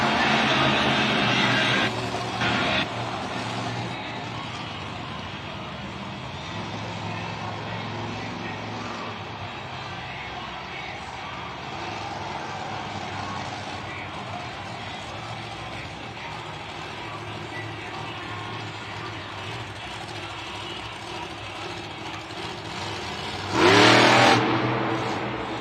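A monster truck engine revs during a freestyle run at a Monster Jam stadium event in Minneapolis, a sustained distant roar filling the arena with a sharp, louder burst near the end.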